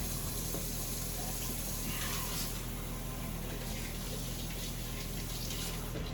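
Tap water runs steadily into a kitchen sink while rice is washed, a continuous rushing splash with no talk over it.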